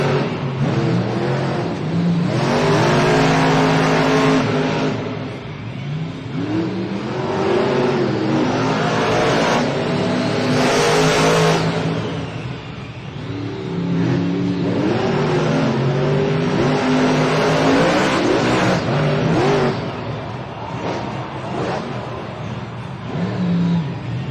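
Monster Jam monster trucks race in an indoor arena in Stockholm, Sweden, with a loud, continuous engine roar that surges and revs throughout.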